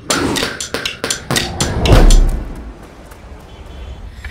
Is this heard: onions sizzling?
no